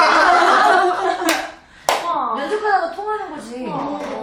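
Short bursts of hand clapping from a small group amid light laughter, followed by a cheerful voice talking over the end; a couple of sharp claps stand out before the speech resumes.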